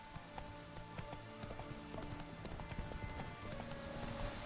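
Roach the horse trots in The Witcher 3, a steady rhythmic clip-clop of hooves on the ground with faint music tones underneath, quiet and continuous.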